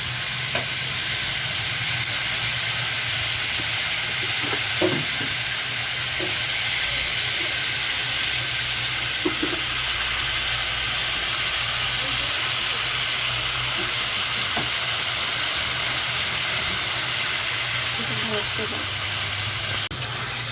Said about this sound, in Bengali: দু মিনিট তেলে নাড়াচাড়া করে এর মধ্যে পেস্টটা দিয়ে দেবো